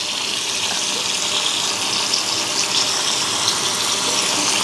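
Tap water running loudly and steadily into a sink at close range, a constant gushing stream for several seconds while false eyelashes are washed, with no speech.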